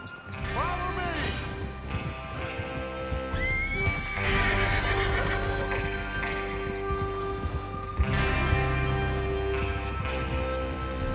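Horses in Red Dead Redemption 2 whinny and neigh repeatedly over steady clip-clop hoofbeats as a group of riders moves out, with a continuous low rumble beneath and a few sharp neighs standing out.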